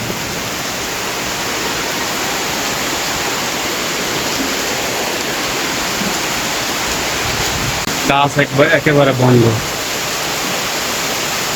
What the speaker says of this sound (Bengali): জোরদার বৃষ্টি চলছে বৃষ্টি হচ্ছে